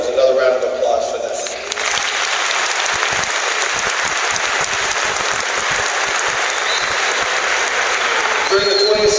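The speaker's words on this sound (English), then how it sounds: "You owe yourselves another round of applause for that." Graduating high school seniors get a loud round of applause from the ceremony crowd, a thick continuous wash of clapping that swells in after a brief opening and carries on strongly to the end.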